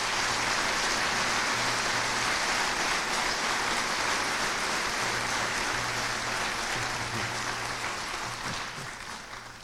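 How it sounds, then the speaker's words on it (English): Audience applause at a university president's welcome address, a dense sustained wash of many hands clapping at once, steady and full before fading slightly at the end. "let's give him a nice round of applause"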